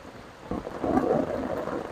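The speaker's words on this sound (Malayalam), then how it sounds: "ഏതായാലും നല്ല സൂപ്പർ മഴയാ, തകർത്ത് പെയ്തോണ്ടിരിക്കുക" Heavy monsoon rain pours down during a fishing outing, a broad steady roar that swells after a quieter start, with a low rumble of thunder mixed in.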